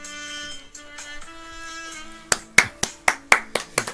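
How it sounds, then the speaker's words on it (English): A small group claps in a quick burst of about eight sharp, evenly spaced claps, close and loud, following a sustained musical tone. "And I have people clapping"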